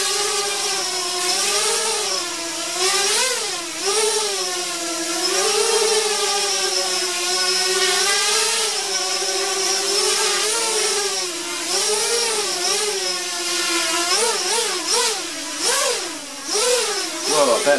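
Mini H quadcopter, mark 3 build, with its small motors whining hard at high throttle during a test flight outdoors; a steady, loud buzzing whir that rises and falls in pitch as the throttle shifts, continuous for the whole stretch.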